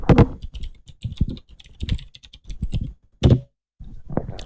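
Keys on a computer keyboard clatter in quick irregular bursts as a command is typed, close and crisp with short pauses between runs of strokes.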